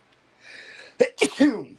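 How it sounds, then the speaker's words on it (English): A soft breathy inhale builds up, then a sharp sneeze bursts out in quick stuttering bits, close and fairly loud. "I think I'm going to sneeze."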